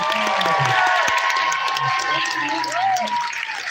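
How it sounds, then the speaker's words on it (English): Audience applause and cheering for voice artists at a Smoky Mountain fan fest panel, a steady wash of clapping from a crowd at tables, with a voice talking over it throughout. "give our voice artists a round of applause"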